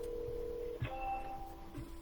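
A telephone being dialed for a real estate cold call to rental owners, with a steady line tone, a short click, then brief tonal beeps, quiet and close.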